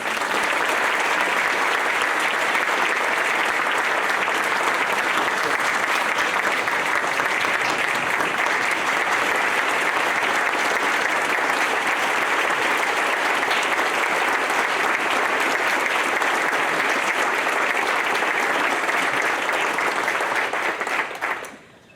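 Loud, sustained applause from an alumni weekend audience honouring award recipients, a thick continuous roar of many hands clapping at an even level before tapering off abruptly at the end.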